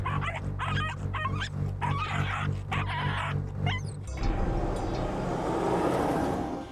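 Stray dogs at an impounding center in Kidapawan City, North Cotabato, bark, yip and whimper in a loud overlapping chorus for about four seconds, followed by a steady noisy background.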